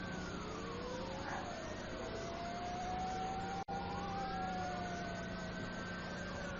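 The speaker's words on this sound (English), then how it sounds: "I think I hear fire engines." Several fire engine sirens wail at once, their pitches sweeping up and down and crossing over one another, steady and moderately loud over a constant low rumble, with a brief dropout midway.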